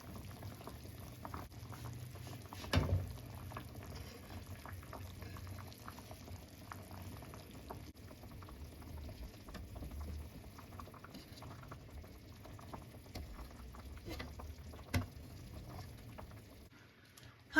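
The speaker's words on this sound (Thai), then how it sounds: "น้ำซุปเนี่ยเขาก็เริ่มเดือดแล้วนะ" Pork rib soup with fermented soybean paste bubbles steadily in a pot, a soft continuous simmer with gentle popping and a couple of louder clinks, no voices.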